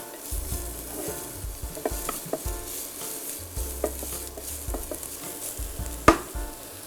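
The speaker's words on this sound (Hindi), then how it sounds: "इसे थोड़ा सा हम सौटे करेंगे" Onions sautéing in a pan on a home stove for a millet dish, a soft steady sizzle with intermittent stirring scrapes and a sharp clink near the end, no talk.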